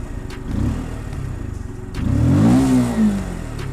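An RKS RNX 125 motorcycle engine idles with a steady throb, then revs up sharply once and settles back, close and fairly loud.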